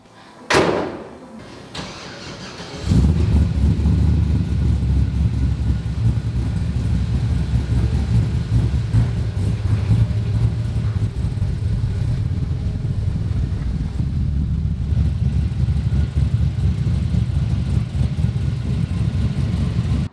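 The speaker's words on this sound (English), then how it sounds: "let's give it a test drive, see how it drives" A Chevy Nova on a test drive: a door clunks shut, then the engine starts and settles into a loud, steady low rumble that carries on unbroken from inside the car, with no talking.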